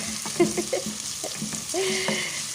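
Apretada, a Filipino stew, cooking in a pan with steady sizzling and frying crackle, plus occasional stirring scrapes and clinks up close, no talking.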